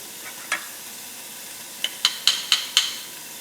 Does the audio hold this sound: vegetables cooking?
yes